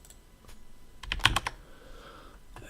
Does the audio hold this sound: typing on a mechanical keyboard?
yes